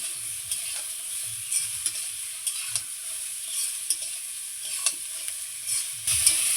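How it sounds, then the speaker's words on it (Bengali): Taro stolons frying in a pan with salt and turmeric, a steady high sizzle broken by intermittent soft stirring scrapes, close and alone with no talk. "দেখুন, লবণ হলুদ দিয়ে আবারও আমি খুব সুন্দর করে ভেজে নিচ্ছি।"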